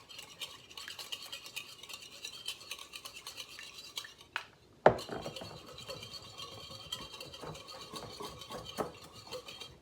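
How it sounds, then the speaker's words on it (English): A whisk scrapes and clinks steadily through flax and milk in a bowl, mixing a vegan egg batter with a brief sharp knock midway, close and moderately loud. "whisk this together a little bit, get the flax and the milk all together"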